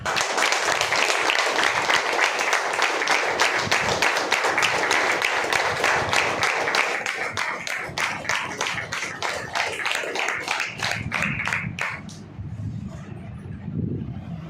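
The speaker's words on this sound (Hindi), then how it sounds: "एक जोरदार ताली हो जाए।" Loud audience applause in a hall at an Ayurvedic medicine gathering, dense clapping that thins toward the end before a lower rumble of voices takes over.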